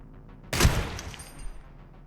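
One loud, close gunshot goes off in Receiver 2 after a quiet start. It has a sharp crack and a heavy low thump, followed by a short fading echo and small clattering sounds.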